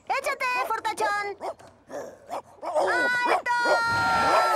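A cartoon dog in the animated series Kid Vs. Kat barks, yips and whimpers in quick excited bursts, close and loud, with character voices mixed in.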